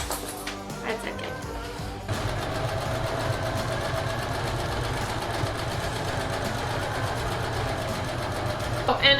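A sewing machine stitches through fabric for a pallet-wood dog crate table cover, running as a steady, continuous mechanical whir after a brief pause, with a short burst of other noise at the start.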